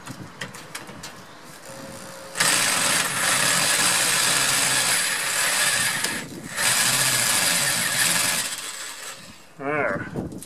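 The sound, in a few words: power drill driving into a gate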